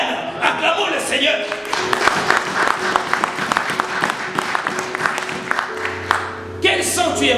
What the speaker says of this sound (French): Acclamons le Seigneur.